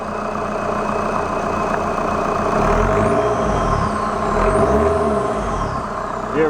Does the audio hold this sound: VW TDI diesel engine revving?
yes